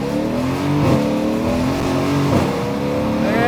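A Mercedes-AMG V8 car accelerates hard from 0 to 60, heard as a loud, continuous engine roar rising in pitch through the revs with brief dips at gear changes.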